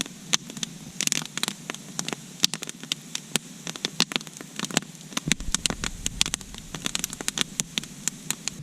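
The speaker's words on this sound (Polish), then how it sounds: "No to teraz chwilka ciszy, posłuchajmy jak działa ognisko." A campfire at a frosty winter bivouac in the Bieszczady mountains crackles close by with dense, irregular snaps and pops, louder and busier in the second half.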